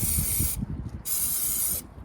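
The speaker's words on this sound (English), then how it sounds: "this protects it from corrosion and rust. You could also spray over there, the sides of the engine" Aerosol rust-protection coating sprayed under a 2010 Ford F-150 SuperCrew pickup, two close, loud hissing bursts of about half a second each, separated by a short pause, with faint handling noise underneath.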